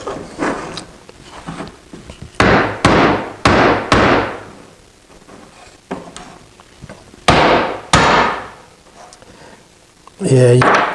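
Hard blows strike a plywood serving tray made from cutting board stock, testing its glued joint: a series of sharp, loud wooden impacts spread over several seconds, with talking between the hits.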